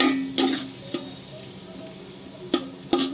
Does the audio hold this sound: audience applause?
no